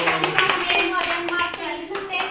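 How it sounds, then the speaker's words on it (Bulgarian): A group, including children, claps at a martenitsa-making contest as the next participant is introduced. The steady, close hand claps mix with children's voices chattering underneath. "Аплодисменти."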